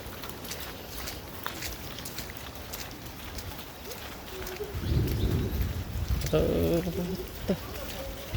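Heavy, nonstop rain pours down with water running off the ground, a steady dense hiss throughout that swells louder and rougher in the second half, with a few low rumbles.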